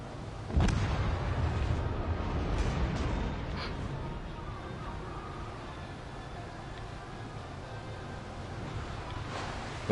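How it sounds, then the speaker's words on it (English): Torpedo hits in the World of Warships naval game land as a few dull booming explosions early on, then fade into a quieter rumbling background of distant battle sounds. "That's the Aoba's torpedoes"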